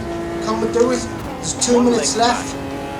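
Race car engines in Automobilista 2 rev and whine through gear changes in a close pack, with a tire squeal mixed in, under steady excited commentary from a player.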